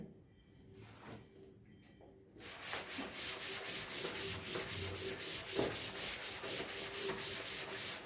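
Rhythmic rubbing strokes of an eraser wiping writing off a board during an instrumentation lecture, preceded by a couple of quieter scrapes, then steady back-and-forth swishes, close and fairly loud.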